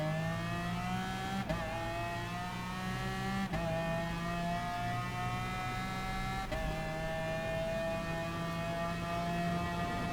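McLaren race car engines roar in the GT Sport racing game, with several cars holding steady high-pitched revs in a one-make pack, continuous and loud with occasional gear-shift dips and no talking.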